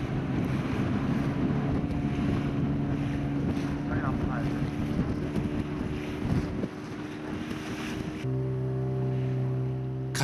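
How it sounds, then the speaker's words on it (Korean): A loud motorboat engine drones steadily on a whaling boat off Lamalera, Indonesia. Wind buffets the microphone and water rushes along the hull, and the engine tone shifts near the end. "그 이유는 바로 시끄러운 모터 소리에 있었다."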